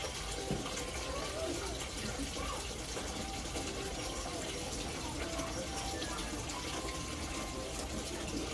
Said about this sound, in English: I'm gonna put a lot of water.